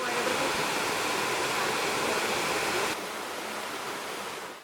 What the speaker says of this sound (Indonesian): Saat ini kita sedang berada di air terjun Kastoba yang berada di desa Kecamatan Sangkapura, lebih tepatnya di Pulau Bawean.